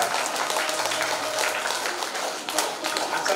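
An audience at a religious storytelling gathering claps, a dense, sustained wash of applause from many hands that stays fairly even throughout, with a faint voice underneath.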